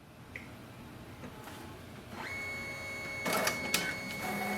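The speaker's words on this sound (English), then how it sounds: "Once you hear the sound printhead moving, just unplug the power cable." A Brother MFC-J4535DW inkjet printer whirs and clicks faintly as its printhead moves, with mechanical shuttling noises and a thin high whine over a low hum that builds toward the end, close by and alone.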